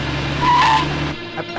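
A car braking hard with its tires squealing, a loud, close skid that holds for about a second and then cuts off as the vehicle stops.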